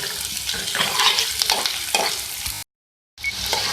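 Chopped garlic and green chillies frying in a pan, a steady crackling sizzle with stirring scrapes, cutting out briefly near the end before resuming.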